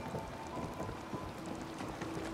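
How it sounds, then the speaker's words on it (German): Steady rain with rolling thunder from a storm in the video game Fallout 4, a continuous wash of falling drops with low rumbles beneath, moderately quiet and without voices. "Es regnet."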